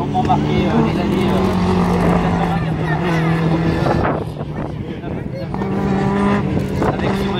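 Loud rallycross car engines roar and rev continuously at a race in Dreux, France, with a brief dip midway before the engine noise surges again; commentary voices run underneath.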